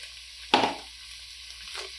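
Rice poured into a hot pan starts frying with a sudden loud sizzle that fades over about a second, followed by a softer second sizzle near the end.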